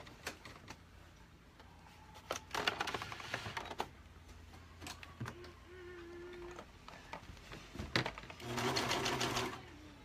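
A serger sewing machine stitching fabric, its blade switched off, runs in short bursts of rapid mechanical whirring at moderate level, separated by clicks, handling noise and quieter pauses, with the longest run near the end.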